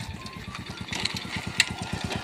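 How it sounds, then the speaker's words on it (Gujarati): A motorcycle engine idles with a steady low, even chugging pulse, close and moderately loud, with faint background noise above it. "બાઇક બંધ કર."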